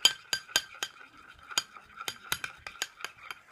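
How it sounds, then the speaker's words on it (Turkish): A utensil stirs glue mixed with shampoo for homemade slime, giving a series of sharp clinks and scrapes against the container at an irregular rhythm, close and fairly quiet, with no voices. "Şimdi bu şampuanla tutkalımı karıştırıyorum."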